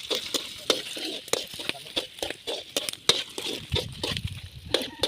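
Pansit gisado cooking in an opened pan (kawali), with a soft sizzle under irregular scraping and clinking strokes of a utensil stirring the noodles, close by and moderately quiet.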